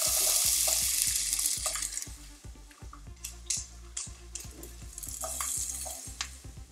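Peppers sizzle steadily in a hot pan for a low-carb chicken fajita casserole, close and fairly quiet, with a rhythmic run of scraping stirs and the clatter of a utensil against the pan.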